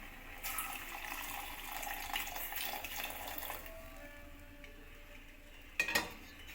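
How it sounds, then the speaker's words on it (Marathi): Milk pours into tea cooking on a stove, giving a soft, faint splashing stream for a few seconds before quieting, then a brief metallic clink of a pot or utensil near the end. "दूध ओतून घेते आता"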